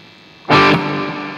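Electric guitar played through a Zoom G2FOUR multi-effects pedal with plate reverb, a single strummed distorted chord that rings out loud and then decays into a smooth, lingering reverb tail.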